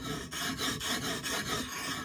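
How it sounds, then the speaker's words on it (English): A knife blade is drawn back and forth across a whetstone in a steady rasping rhythm of about eight strokes, close and fairly quiet with no talk. "The noise will change, the pitch essentially will change as the edge gets sharper and sharper and more refined."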